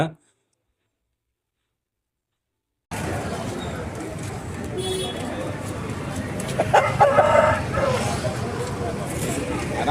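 After a brief silence, a rooster crows amid a noisy outdoor crowd and traffic at a country-chicken poultry market in Eluru, with people talking throughout.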